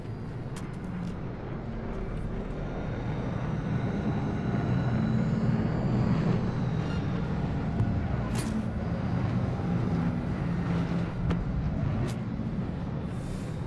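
A drone flies overhead in the Cyberpunk 2077 Phantom Liberty game, a loud, steady engine-like roar that fills the scene with a few sharp transient clicks and no speech.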